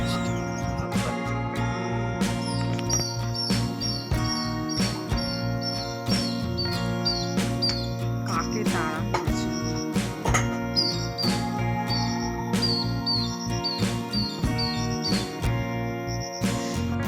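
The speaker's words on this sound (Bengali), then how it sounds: "পুকুরের দিকে নতুন পাখির আওয়াজ পেলাম" A bird calls near a pond with a steady run of chirps and tinkling notes. The calls sound close and carry on without pause over a dense, busy background.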